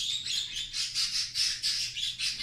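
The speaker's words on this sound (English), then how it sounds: "These birds. Oh, I love these birds." Several pet birds chirp and tweet continuously in high, bright bursts, fairly close and lively, with no talking.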